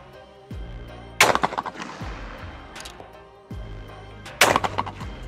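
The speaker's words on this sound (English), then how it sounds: "We gotta shoot a round of trap with this gun." A Stoeger The Grand trap shotgun fires at clay targets on a trap range, with several sharp, loud reports spaced a few seconds apart, each followed by a short ringing decay.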